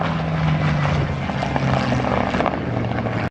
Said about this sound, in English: Now the Japanese Zero, not satisfied with the few strays that he made on the airfield, decides to bring it back again.